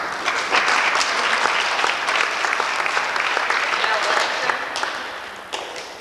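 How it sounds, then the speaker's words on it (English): Sustained applause from an audience at a high school prom and award night, steady and full across the whole stretch, with claps dense and even before easing slightly near the end. "Why don't you just hold your applause till they all come down, please."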